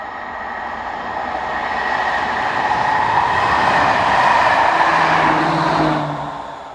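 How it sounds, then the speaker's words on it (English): A refurbished AM80 electric train unit rounds a curve on a service from Landen to Antwerpen, a loud, sustained rumble that swells as it passes close by, with a steady wheel hiss and a faint squeal before it fades. "we see refurbished AM80 unit number 317 rounding the curve, forming a service from Landen to Antwerpen"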